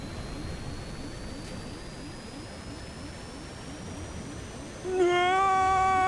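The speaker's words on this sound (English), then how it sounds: "Okay, so it's just a nice, simple plane ride." Steady roar of an airplane engine in flight in the Stranded Deep video game, a constant loud drone that holds for several seconds before a tonal alarm-like whine cuts in near the end.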